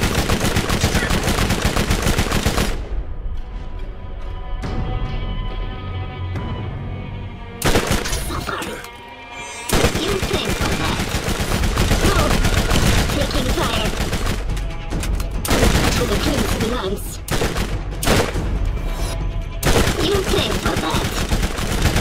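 Gunfire from Borderlands pours out in long, loud automatic bursts with short pauses, near and dense, with occasional game voices underneath.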